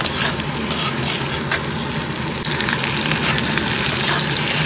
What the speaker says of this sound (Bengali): সব সবজি দিয়ে দিচ্ছি, ভালো করে এটাকে ভালো করে তেলে ভাজবো।